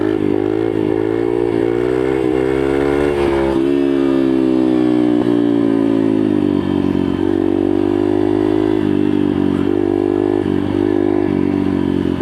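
A pit bike engine revs steadily and loudly on a street wheelie, its pitch rising and falling with throttle changes, close and continuous without talk.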